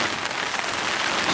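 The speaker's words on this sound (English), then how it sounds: "Still raining, as you can hear." Steady rain falls outdoors in the Alaskan high country with gusty wind, a dense, loud, even hiss of drops on a tarp and surroundings throughout, with no talk.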